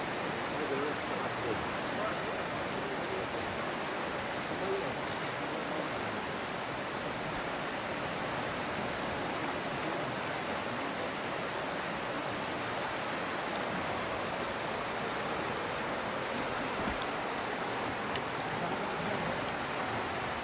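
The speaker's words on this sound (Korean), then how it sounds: "이 폭포는 1단 폭포와 2단 폭포로 두 개의 폭포로 이루어져 있으며" A steady, broadband roar from a two-tier waterfall surrounded by bamboo forest on Mount Bale, Ethiopia, fills the whole stretch, constant and enveloping with no pauses.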